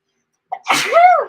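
A single loud sneeze, close by, with a short intake of breath just before it.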